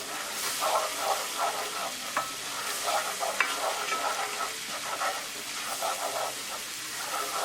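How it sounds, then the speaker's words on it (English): Salt, degi mirch, cumin, coriander, curry powder and garam masala cook with tomato in a pan for Indian-style butter salmon makhani. A steady close sizzle runs under rhythmic scraping stir strokes throughout, with no voices. "Cook spices along with the tomato for 1 minute."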